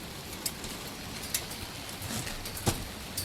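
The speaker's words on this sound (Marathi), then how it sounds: "बघा तुमची लाडकी ॲश पण आली आहे या पावसाचा आणि निसर्गाचा आनंद घ्यायला." Rain falls steadily outdoors, a soft continuous hiss broken by a few sharper drips and splats, with no talking.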